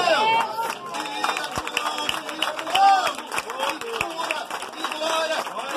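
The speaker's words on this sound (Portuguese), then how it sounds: "Cadê as palmas de Deus?" Church congregation clapping in sharp bursts under a preacher's loud voice and singing, with the claps mixing into the steady crowd noise.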